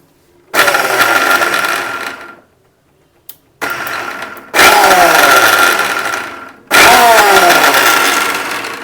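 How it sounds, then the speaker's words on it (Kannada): A kitchen mixer grinder whirs in three pulses while chopping, switched on and off with short pauses between, a loud whining motor each time. "ಮಿಕ್ಸಿನ ಆನ್ ಆ್ಯಂಡ್ ಆಫ್ ಮಾಡಿಕೊಂಡು ಇದು ಮಾಡ್ಕೋಬೇಕು ನೀವು"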